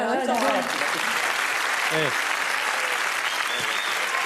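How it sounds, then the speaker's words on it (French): Sustained applause from a crowd fills the clip, with a voice briefly heard at the start before the clapping carries on steadily. "Applaudissements."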